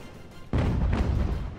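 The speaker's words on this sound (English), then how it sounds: "That's the cannons, baby!" Cannons fire in the strategy video game Ultimate General: American Revolution during a large line battle, a sudden heavy boom followed by a dense, rolling rumble of artillery.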